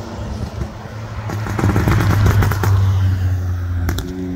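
A loaded Ford F-350 pickup with a burble exhaust tune rumbles nearby. Its engine swells louder midway, with sharp crackling exhaust pops scattered through the low drone.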